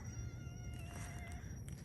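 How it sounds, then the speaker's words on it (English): On a night walk in the jungle, a cat gives a few faint meows and caterwauls, set against a steady hum of insects and rustling ground noise. "Cat in the forest."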